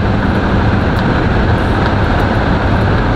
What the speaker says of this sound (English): y'all hear that wind